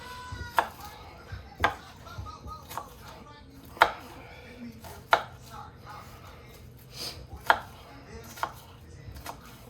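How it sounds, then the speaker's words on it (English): An onion is diced with a knife, giving about eight sharp, close chops at a slow, fairly steady pace with quiet pauses between strokes and no talking. "legitimate advice on how to dice an onion better than I'm doing right now"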